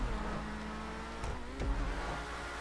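A Progen Emerus supercar in GTA 5 drives on a track, its engine holding a steady droning tone that shifts slightly in pitch, with two brief sharp bursts partway through.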